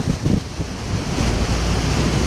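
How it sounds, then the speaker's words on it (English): Strong wind buffets the microphone during a ride on a Gotway MSX electric unicycle, a loud continuous roaring rush with a few heavier low gusts at the start and no talk. "Oh my God, it's windy."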